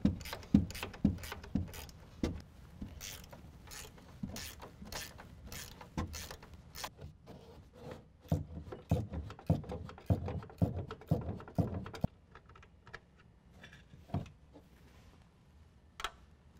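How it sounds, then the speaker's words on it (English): A ratchet wrench clicks in quiet, irregular bursts of rapid ticks while loosening the three 18mm top nuts on a strut assembly of a 2014-2017 Chevy/GMC 1500 4WD pickup during a lift kit install, close and fairly soft. "we're going to remove the 3 nuts holding on the top of the strut assembly"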